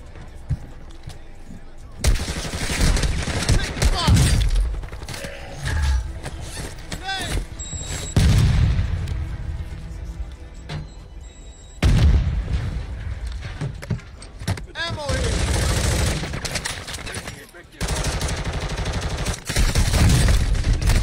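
Heavy bursts of gunfire from a battle royale video game arrive in loud, dense volleys separated by quieter stretches, with voices talking throughout.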